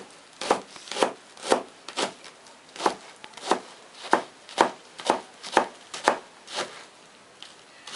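A knife chops green onion on a cutting board in about fifteen sharp, evenly spaced strokes, close and clear, with no talking.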